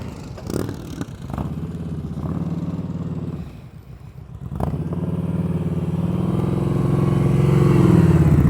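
Motorcycle engine held at a steady low throttle during slow-speed riding practice, a continuous close rumble that dips briefly midway, then swells and holds with slight revving toward the end.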